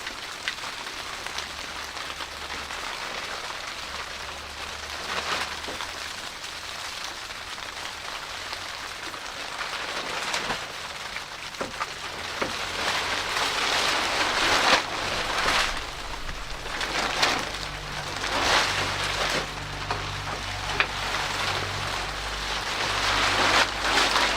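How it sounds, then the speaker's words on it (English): Rain falls steadily on surfaces outdoors near a Land Rover Discovery 2 under repair, a broad continuous hiss that swells louder in the second half, with a low rumble beneath and no speech. "It was sunny 5 minutes ago, now it's raining."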